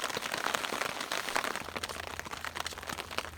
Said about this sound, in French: la pluie a diminué